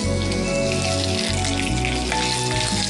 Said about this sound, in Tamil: அதில் கொஞ்சமாக கருவேப்பிலை எடுத்து தாளிச்சுக்கோங்க.